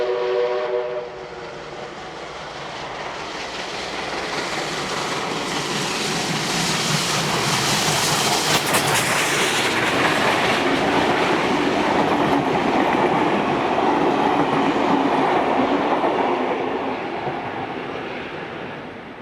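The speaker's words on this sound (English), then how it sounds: "we see the locomotive charging through Menangle" A locomotive-hauled train charges through Menangle, approaching and swelling to a loud, sustained roar of wheels and engine, then fading slightly as it passes, with a brief horn-like tone near the start.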